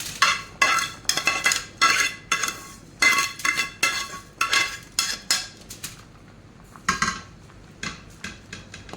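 A spoon scrapes and clinks against a pot while rice is stirred together with fried vermicelli (shariya), repeated close metallic strokes in an uneven rhythm that thin out toward the end.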